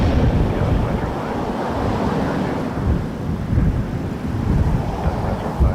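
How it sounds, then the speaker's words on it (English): Strong gusty wind buffeting an outdoor microphone at Toronto Pearson Airport, a loud, continuous low roar that surges and eases throughout. "It is gusty. Hold on to your equipment,"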